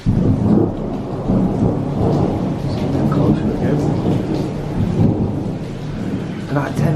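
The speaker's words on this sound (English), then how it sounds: "I'd never heard a crack of thunder like that crack of thunder with that really close lightning bolt." A loud thunderstorm on holiday in Menorca, with very close lightning: heavy rain pours steadily while deep thunder rumbles and cracks throughout, dense and near.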